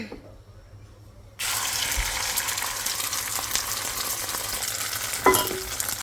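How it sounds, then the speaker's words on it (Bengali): Two eggs frying in a pan give a steady, close sizzle that starts abruptly after a quiet moment and carries on with faint scraping and clinks. "তো ডিম ভেজে নিতেছি দুইটা, মানে দুইটা ডিম গলাইছি।"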